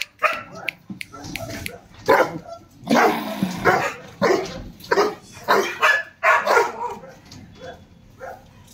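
A guard dog in training barks loudly and close by, in a steady run of about a dozen sharp barks with short gaps between them.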